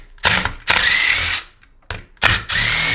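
A ratchet works on the 1/2-inch head bolts of a Briggs & Stratton 125K02-0243 flathead engine during teardown. It gives loud, close bursts of rapid clicking separated by short pauses, with no talking.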